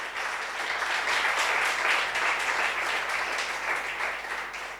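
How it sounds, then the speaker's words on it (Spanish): A church congregation breaks into sustained applause during a worship service, many hands clapping together in a dense, even wash that holds steady for several seconds without speech. "Dale un aplauso al Señor."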